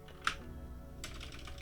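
Typing at a computer keyboard to enter a command at the Windows command prompt, a few soft, close key clicks, one sharp tap followed by a short quick cluster of keystrokes, faint and with no talking.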